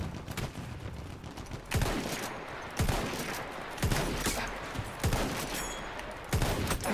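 M95 carbine fire in Battlefield 1, with sharp, loud shots cracking out roughly every second over a busy din of distant battlefield gunfire.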